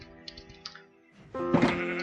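Sheep bleating from a sheep head block in the video game Minecraft, one short bleat rising to a loud, wavering cry near the end, with no talk.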